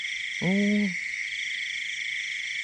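A frog gives a single close croak with a harmonic, drawn-out tone lasting about half a second, heard near baited fishing hooks set with earthworms for frog catching, against steady insect and cricket buzzing in the background.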